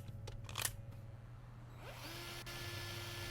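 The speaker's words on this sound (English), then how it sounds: "Okay, protect me while I drill." A power drill whirs steadily in a heist video game, a continuous mechanical whine over a low game hum, with a rising tone sweeping up near the end as the drill settles into a sustained high note.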